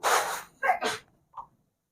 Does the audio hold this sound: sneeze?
yes